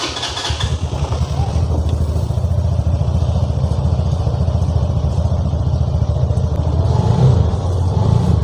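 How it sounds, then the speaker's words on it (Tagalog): A Rusi Caruza 200cc liquid-cooled fuel-injected tuk-tuk engine idles steadily up close, a loud continuous low throb with mechanical clatter and a slight rise in revs near the end. "Titingnan natin kung kumusta yung tunog ng Karusa"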